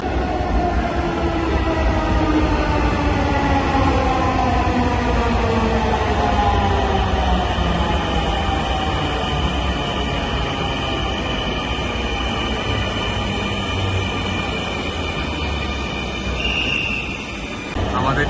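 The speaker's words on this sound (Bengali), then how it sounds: "আমাদের ট্রেন চলে আসছে। এখন আমরা ট্রেনে উঠবো।" A metro train pulls into a station platform in Dhaka, its loud rumble and falling motor whine filling the scene for the full stretch as it slows, close and steady, with little or no talk over it.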